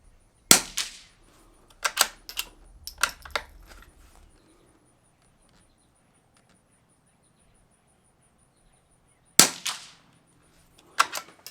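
A Lithgow LA101 rifle fitted with a Gemtech suppressor fires Eley Tenex rounds: sharp, muffled cracks in a quick cluster of about five, a long quiet pause, then two more shots.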